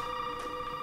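A telephone rings in the horror game Resident Evil 7, a steady electronic ring tone holding throughout, moderately loud with a faint background bed and no talking.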